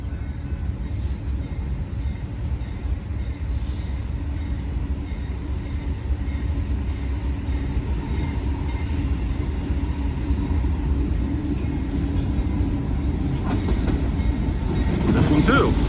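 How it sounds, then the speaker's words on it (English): A long Indiana & Ohio grain freight train rolls past a crossing with a steady loud rumble and clickety-clack of wagons, swelling near the end, with no horn. "There comes the train."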